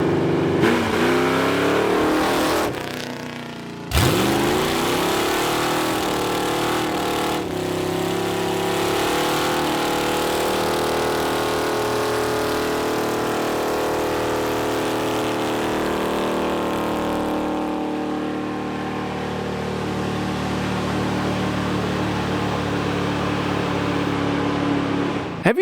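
A big block V8 in a 1980 Dodge truck, hurt and smoking, runs loud and close with a steady droning rumble, a sharp restart or rev near the start, then settling into a rough, even idle.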